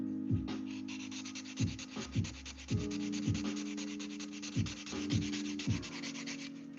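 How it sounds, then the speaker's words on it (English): Wooden cutting board being hand-sanded, with steady rough scraping strokes and rhythmic thumps as the sander or block shifts, close and fairly quiet, with no talking. "We got a lot of sanding to do."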